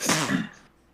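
A single short, explosive sneeze up close, sharp burst then quickly trailing into silence.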